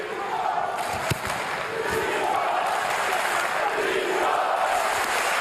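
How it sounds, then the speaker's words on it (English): A boxing crowd at a Vitali Klitschko versus Dereck Chisora heavyweight fight roars and chants in a sustained arena swell, with one sharp thump near the start and commentary voices over it. "Chanting for Klitschko. They're supporting their man."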